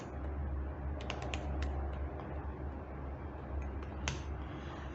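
Key clicks from a computer keyboard while Python code is typed, a scattered run of light taps over a steady low background hum, fairly close.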